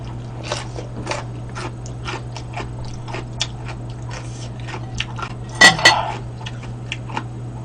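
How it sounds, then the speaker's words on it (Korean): Crisp, crunchy bites of pickled kohlrabi repeat in a steady chewing rhythm close up, over a low constant hum, with a louder crunch partway through. "무보다 훨씬 더 아삭할, 아삭아삭 씹힌 소리가 나죠"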